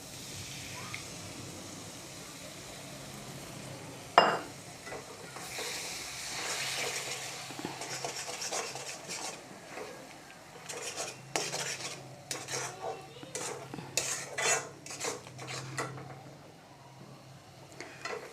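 Two duck eggs cook with bamboo shoots in a pan over a gas flame, soft sizzling under repeated clattering stirs of a utensil against the pan, with one sharp knock early and busier scraping toward the end.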